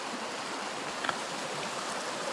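Creek water flows steadily in a soft, even wash with no talk, a quiet outdoor stream near a gold sluicing spot.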